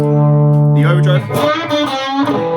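Electric guitar run through a Tonex One overdrive setting and a Chase Bliss Brothers AM pedal, heard as a loud, sustained distorted chord that gives way to busier, gritty picked notes.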